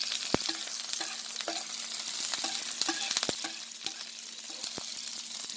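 Onion sizzles steadily in olive oil on a grill, a continuous crackling fry with scattered light pops and stirring taps, close by and with no talk over it.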